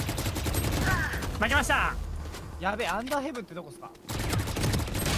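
Rapid bursts of gunfire from the tactical shooter VALORANT crackle throughout, under excited overlapping voices of players talking over the game sounds.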